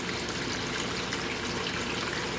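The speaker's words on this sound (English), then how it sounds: "Filling it back up with water. And it should start bubbling." Water pours steadily into a home aquarium as it is refilled, a continuous close trickling and gushing rush with a faint bubbling quality, no voices over it.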